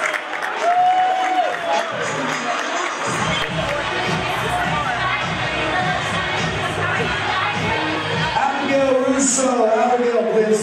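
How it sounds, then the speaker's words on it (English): An audience at a Class of 2024 Project Graduation fashion show fundraiser applauds and cheers, a loud crowd mix of clapping, whoops and chatter that carries on steadily. "A round of applause."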